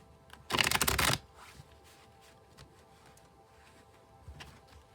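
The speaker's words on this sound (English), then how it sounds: "Now I will shuffle until I feel like the deck is ready" A tarot card deck shuffled by hand gives a loud riffling burst of about half a second, then quieter scattered clicks and rustles of the cards against a faint background.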